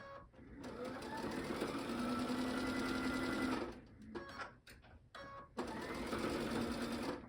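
A sewing machine stitches a seam joining two pieces of an Ohio Star quilt block, running at a steady, rapid clatter, stopping briefly about halfway, then starting up again for a final burst.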